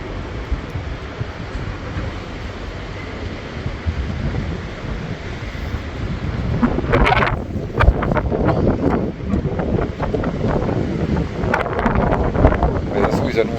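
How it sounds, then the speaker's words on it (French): Steady, roaring storm wind in Spain, with gusts up to 95 km/h, buffets loudly throughout, with heavier rumbling gusts and thumps picking up in the second half. "Ils annonçaient des tempêtes de vent jusqu'à 95 km/h"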